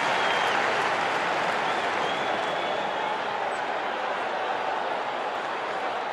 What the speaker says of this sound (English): The crowd is literally on its feet as the final over begins.